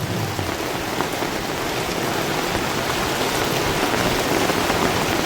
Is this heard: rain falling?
yes